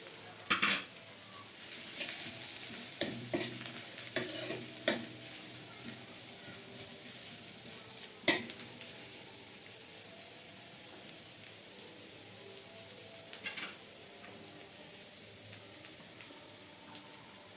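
Ginger paste frying in tempered oil in a pan, a soft continuous sizzle with occasional sharp spoon knocks and scrapes near the start, quieter and steadier later.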